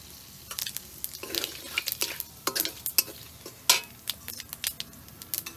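Whole bay leaf and cumin seeds hit hot oil, giving spitting sizzle bursts mixed with repeated quick scrapes and clinks of a utensil against the pan, close and irregular.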